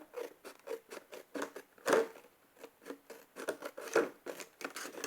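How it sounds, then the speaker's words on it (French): Scissors cut a laminated paper bookmark up close, giving a run of crisp snipping strokes in an uneven rhythm, with two louder, harder cuts among the lighter ones. "mon marque-page, je vais le couper ciseaux, tant qu'à faire."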